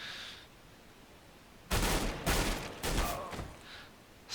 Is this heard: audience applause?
no